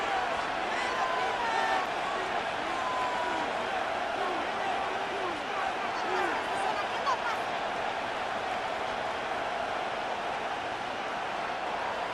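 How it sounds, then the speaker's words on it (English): Stadium crowd in a Madden 26 Vikings versus Steelers game gives a continuous loud roar with scattered whistles and cheers that stays steady throughout, with a voice talking over it. "The crowd making their presence felt."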